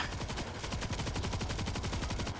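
Light machine gun fire in World War Z rattles out as a rapid, steady stream of evenly spaced shots, sustained for about two and a half seconds at a fairly low level.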